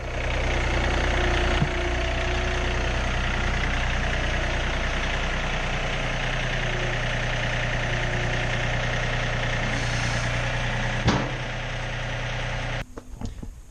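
A John Deere 3025E compact tractor idles nearby while being parked, a steady low engine rumble with a faint clunk partway through, before the engine cuts out near the end.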